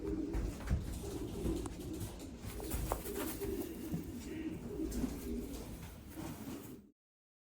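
A racing pigeon coos repeatedly at close range, soft low throaty calls in a rhythmic series over light handling noise, ending abruptly.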